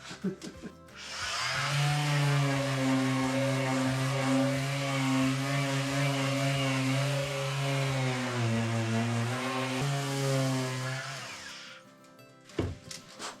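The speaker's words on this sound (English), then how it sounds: "So I'll just give you a little glimpse of what it's like to sand." Power sanding on wood before painting: a loud, continuous whirring drone that holds steady for about ten seconds, then cuts off, followed by a few clunks.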